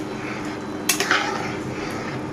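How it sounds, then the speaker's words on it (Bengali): Chicken and bottle gourd curry is stirred in a pot on the stove, with a few sharp metal clinks of a spoon against the pot over a low, steady background, no voices. "ঢাকনাটা উঠিয়ে একবার নেড়ে চেড়ে দিচ্ছি"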